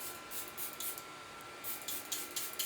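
Charlotte Tilbury setting spray goes on in several short, soft, airy bursts of fine mist, close and fairly faint, as the final step of a makeup routine.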